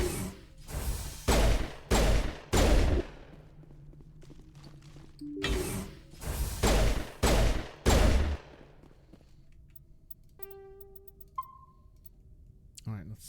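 Bursts of video-game gunfire aimed at turrets, several loud rapid volleys separated by short pauses, followed by mechanical clicks and electronic beeping tones near the end.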